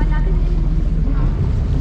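Steady, loud wind buffets the microphone aboard a yacht sailing on Lake Taupo, a continuous low roar with faint water movement and no pauses.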